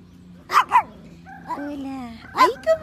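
A pet dog at home gives two quick sharp barks, then a drawn-out whining whimper, then two more barks, all close and fairly loud, with a voice talking softly around them.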